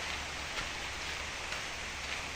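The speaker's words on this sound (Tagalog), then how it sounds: "umuulan na naman" Steady rain hisses without a break, an even wash of patter with no voices.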